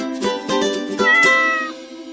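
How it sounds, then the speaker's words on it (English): A cat meows several times in quick succession, loud and close, each call drawn out and tonal with a slight wavering, alone with no talking. "here's my cat Forest."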